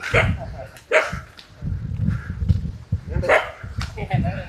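Dogs bark in short bursts under close conversation, with yips and whimpers mixed in among the voices.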